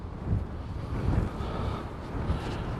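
Spring breeze buffets a handheld camera gimbal on Eastbourne Beach, producing a continuous low, rumbling wind roar with uneven gusts and no voices.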